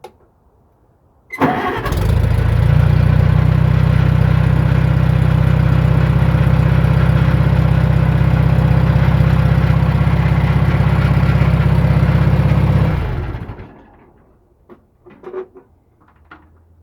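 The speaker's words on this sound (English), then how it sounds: "how fast this engine turns over" A close Farmall 140 tractor engine, fitted with a replacement distributor, cranks and catches almost instantly, then idles steadily with a deep, even rumble for about ten seconds before shutting off.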